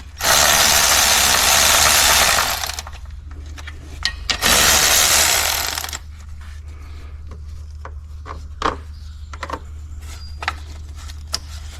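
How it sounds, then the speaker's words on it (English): Valve cover bolts come off a Kia Soul engine with two loud, sustained tool bursts, each a few seconds long. Quieter clicks and metallic clanks follow, close by. "I'm gonna undo them in a crisscross pattern."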